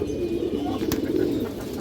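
Kagji pigeons with light red eyes and boot-shaped beaks coo in a steady low murmur, close and continuous, with a brief sharp click partway through.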